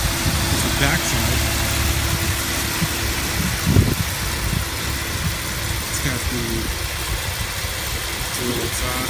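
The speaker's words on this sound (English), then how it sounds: "Got the engine running." A Porsche 911 (996) engine idles with a steady low rumble, a brief louder bump partway through, and a voice talking intermittently over it.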